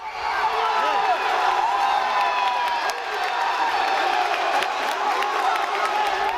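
Supporters at a school football match cheer and shout continuously from the stands, a dense crowd roar with whoops rising through it, sustained and fairly close.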